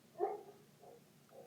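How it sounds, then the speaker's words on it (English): A dog barks outside, faint and distant: one clearer bark followed by two weaker ones about half a second apart over a quiet background. "Dog's barking outside again."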